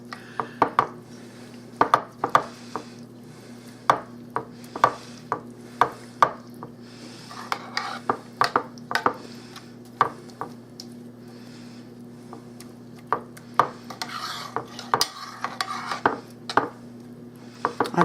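Baked bean ingredients are mixed in a bowl, with repeated wet squishing and sharp utensil clinks against the dish in an uneven rhythm over a steady low hum, close up and with no talking.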